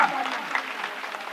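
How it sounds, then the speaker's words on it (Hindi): An audience at an inauguration ceremony for an RO plant and bakery plant claps in a brief, dense burst that stays fairly even across the moment. "हाथ उठा करके सभी लोग ताली बजाएंगे।"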